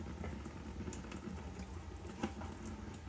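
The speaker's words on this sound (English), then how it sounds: "This is just gravity draining all the water from the house." Water drains by gravity from house plumbing through a corroded basement valve opening into a 5-gallon pail, a faint, steady gurgling trickle with occasional small splashes.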